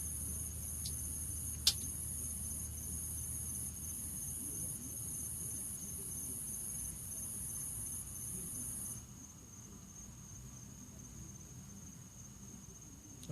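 A cricket chirps as a continuous high, thin trill over a low background rumble, steady and fairly faint, then suddenly cuts out partway through, leaving only the quieter room noise.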